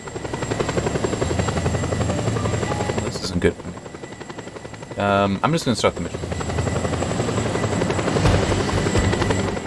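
An attack helicopter in Just Cause 2 drones loudly and steadily with rotor chop throughout, briefly dipping while someone talks over it and short game effects cut in.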